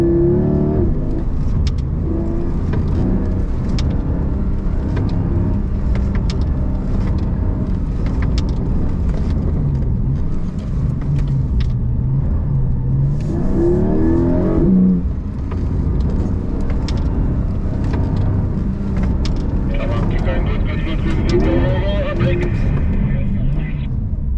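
A Porsche GT4 RS accelerates hard at full speed on a roadshow course, its engine revving loudly in rising and falling surges, with voices talking over it at times.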